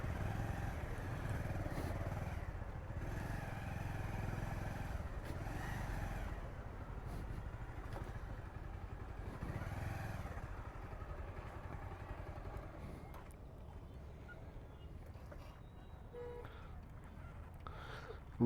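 A motorcycle rides through Kathmandu city streets, its engine a steady low drone with a continuous rumble of surrounding traffic, fairly constant and slightly fading toward the end.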